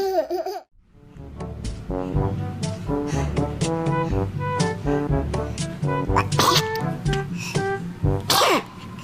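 A baby sneezes several times in a row, with short bursts scattered across a busy home scene. Adults laugh and talk around the sneezes.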